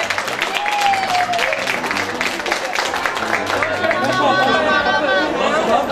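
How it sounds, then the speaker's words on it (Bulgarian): Wedding guests applaud loudly for the young groom, a thick continuous clatter of many hands mixed with crowd chatter, cheering voices and background music throughout. "Аплодисменти, моля, за този млад момък"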